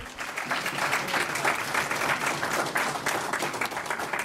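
An audience gives sustained applause, a thick wash of many hands clapping at once, steady and fairly loud from start to finish.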